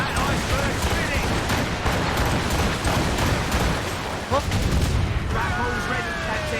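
Ship cannons firing during a naval battle in Assassin's Creed Rogue, a series of heavy booms and cracks spread across the moment, with voices shouting over the din of combat.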